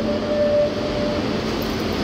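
Barcelona metro train on a quiet Sunday morning, a steady rumbling ride noise with a faint high whine, continuous and fairly loud throughout with no talking.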